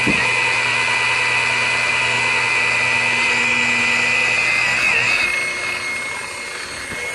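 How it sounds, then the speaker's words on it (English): A power buffer works over a dented car body panel, a loud, steady electric whine with a sustained pitch that shifts near the end as the motor winds down and fades slightly, with no voices. "we just finished buffing out our dent"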